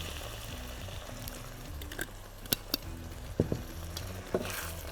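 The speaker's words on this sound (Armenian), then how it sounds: "Լավ խառնում եմ։" A spoon stirs a pot of meat and pumpkin stew as it cooks, giving soft scraping and sloshing under a gentle sizzle, broken by a few sharp clicks of the utensil against the pan.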